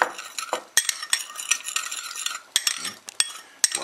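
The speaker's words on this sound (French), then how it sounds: "On va mélanger, dissoudre avec 2 cuillères à soupe" A spoon stirs brown sugar into hot water in a small bowl, producing sharp, close clinks and taps against the sides at an irregular, quick pace, with light swirling between strikes.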